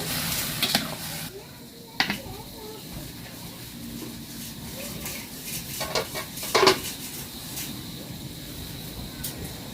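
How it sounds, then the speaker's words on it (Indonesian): A banana blossom vegetable dish sizzles and fries in a pan while a spoon stirs it, giving scraping clinks against the pan over continuous close frying hiss, with a voice speaking briefly. "Kita aduk-aduk lagi ya, sampai bumbunya tercampur merata."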